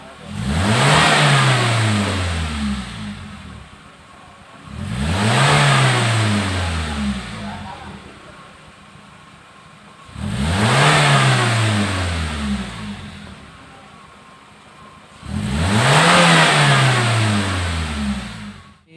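A 2007 Suzuki Grand Vitara automatic on a test drive, its engine revving hard in four separate bursts that each climb and then fall back, heard close and loud with no talk.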